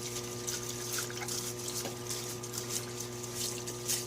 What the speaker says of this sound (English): let the fluid just flow over everything like so